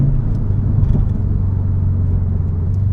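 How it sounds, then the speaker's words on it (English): A 2015 Subaru WRX STI Launch Edition engine hums as a loud, steady low rumble, heard from inside the car while it is driven through heel-toe downshifts, with no voices. "Nice easy heel toe, downshifts and all that."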